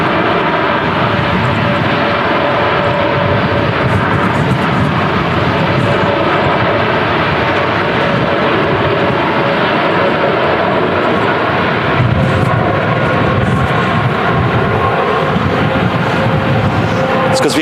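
An airliner roars steadily through storm crosswinds while landing at Manchester Airport, a loud continuous engine rush with gusting wind noise throughout.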